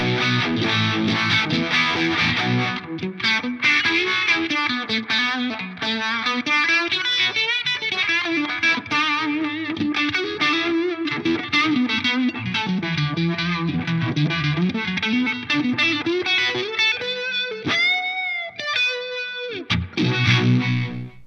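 Overdriven electric guitar through a MojoHandFX Rock City Dual Overdrive pedal with a Univibe's swirling, throbbing modulation plays a continuous melodic line, loud and close, ending with a few sustained wavering notes.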